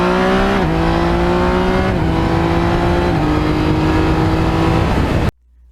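A Yamaha MT-09 motorcycle revs hard and close, its engine note climbing in several steps as it shifts up through the gears, loud and continuous before cutting off abruptly.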